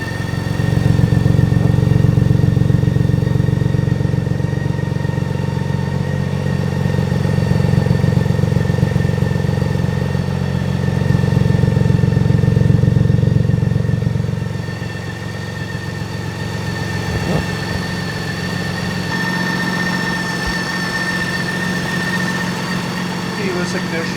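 A BMW K1600B motorcycle's engine, already warmed up, revs loudly in a couple of swelling rises over a deep idle, then settles back to a lower, steadier idle.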